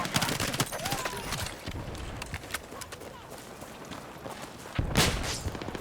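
Rifle gunfire in the video game Battlefield 6, a burst of shots early then scattered rounds and footsteps amid combat noise, with a loud blast near the end.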